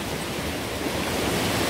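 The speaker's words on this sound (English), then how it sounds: "in a very typical Swiss place with waterfalls like this one and a river full of life and flow." A Swiss waterfall roars as a dense, steady rush of falling water, loud and close, with no other sounds standing out.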